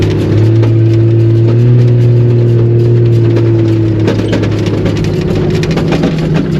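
A Jeep 4.0 engine runs steadily at idle, a loud, even mechanical drone with a constant low hum and faint ticking throughout, heard alone.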